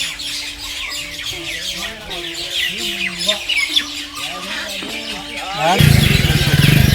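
Birds in a shaded Braj forest, including cuckoos and peacocks, give repeated squawking, warbling calls at moderate distance; near the end a loud, harsh broadband roar, like a passing engine, swamps them.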